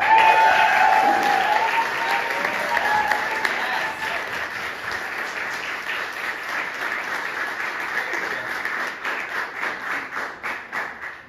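Applause from a crowd welcoming a performer at a Pride 2024 event, steady dense clapping that stays loud throughout and thins into scattered claps near the end.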